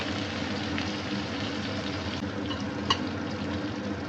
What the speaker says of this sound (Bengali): উচ্ছে ভেজে নেওয়ার জন্য চুলার ফ্লেম হাই করে দিয়ে বন্ধুরা উচ্ছে একটু ভেজে নেব